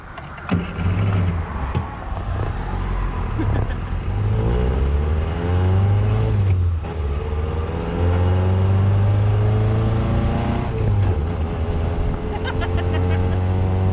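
A classic car roars under full throttle, its engine droning loud and continuous with a rising, sweeping pitch and brief dips, heard from inside with no talk.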